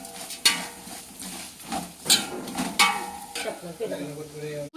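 Chili powder being stirred into chicken for a home-style dum biryani, with spoon-on-pot clinks and scrapes over a soft sizzle. A few sharp metallic knocks stand out among steady stirring sounds.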